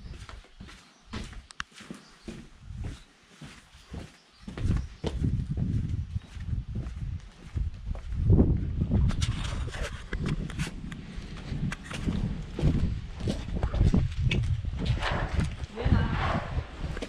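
Horses walking on a route where training horses are kept, hooves clip-clopping in irregular steps at close range, with people talking over much of it.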